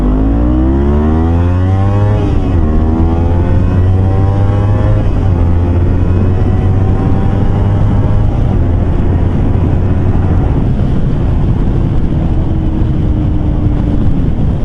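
A Kawasaki Versys X 250 motorcycle fitted with a Norifumi slip-on exhaust revs and pulls through rising gears on the move, engine pitch climbing then dropping with each shift, loud and close under strong wind buffeting.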